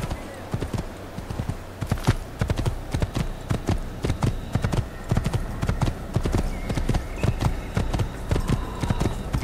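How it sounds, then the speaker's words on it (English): Horse hooves clip-clop steadily and rapidly in the Assassin's Creed video game, loud and close, with an occasional whinny and faint game ambience. "I like the white horse better"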